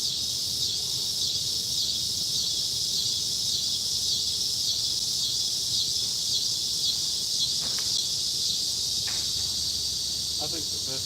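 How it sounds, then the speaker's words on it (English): Cicadas drone loudly and without a break at a lakeside fishing spot, a dense high-pitched whine that holds steady the whole time, with a few faint clicks and chirps over it. "the cicadas are loud"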